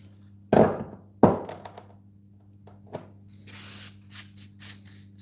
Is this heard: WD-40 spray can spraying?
yes